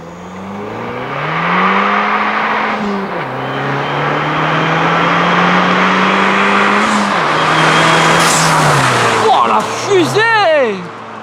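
A Fiat 500 Abarth passes at speed, its engine note loud and rising, then dropping sharply as it goes by, with a second rising pass near the end; people talk excitedly throughout.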